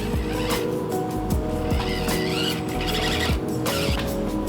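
An Axial SCX24 Yukon Denali RC crawler works over an indoor basement crawl course, giving a close whining motor with repeated rising revs and small scrapes.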